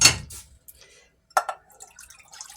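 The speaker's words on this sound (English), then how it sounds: "pour it in the pan" Milk poured into a cooking pan that was just rinsed after boiling potatoes, heard close up as a few short splashing bursts and light drips with quiet gaps between them, and no talking.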